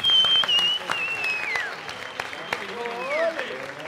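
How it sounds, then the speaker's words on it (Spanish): A comedy-show audience applauds a mentalist as he is introduced, a busy spread of clapping beneath a loud announcer's voice and some whooping, fairly close and lively throughout. "Por favor, un aplauso para el señor Ricardo Mentalista"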